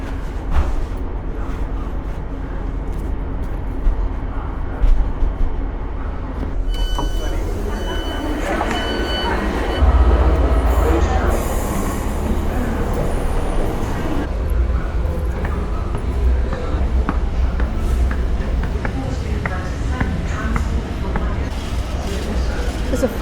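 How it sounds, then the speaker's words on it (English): A freight train crawls very slowly through a station, making a low rumble and clanking rail noise that swells partway through, while people talk nearby. "There's a freight train crawling through the station very, very slowly"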